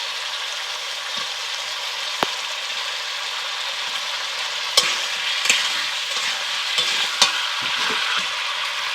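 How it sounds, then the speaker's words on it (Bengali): Chopped eggplant sizzles steadily in a pan of spiced mixture being cooked down for a koi fish curry, with a few sharp scraping clicks as it is stirred; no talking. "এর মধ্যে আমি কেটে রাখা বেগুনটাকে দিয়ে দেবো।"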